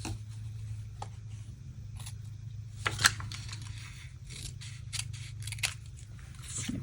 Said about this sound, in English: I'm just going to take my snips.